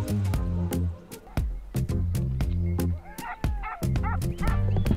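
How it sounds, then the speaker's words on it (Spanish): Hunting dogs bark in the woods during a montería hunt in Extremadura, a loud, close pack giving many quick overlapping barks, yips and a few whimpers in an irregular, excited rhythm. "Ya se empezaban a escuchar las primeras ladras en el monte"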